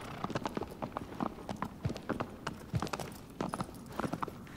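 Horse hooves clip-clopping in the video game Shadow of the Colossus, a close, steady walking rhythm of hoofbeats heard alone and clearly throughout.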